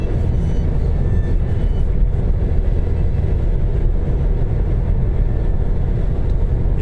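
Steady road roar inside a car cruising at 74 miles per hour, a constant low rumble and tyre hiss filling the cabin without pause and with no voices.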